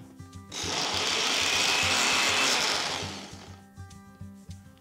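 A mixer grinder blending green chilli, garlic and coriander into chutney without water whirs loudly for about two seconds in one steady burst, starting and stopping abruptly, with quieter clatter before and after.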